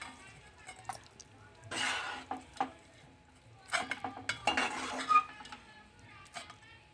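Ridge gourd curry scooped from a pan into a serving bowl, with scattered metal spoon scrapes and clinks against the pan, some close and loud, others soft, and no talk.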